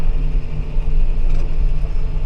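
A vehicle drives along a farm route during autumn corn-field ploughing, giving a steady, close, low engine rumble with no pauses.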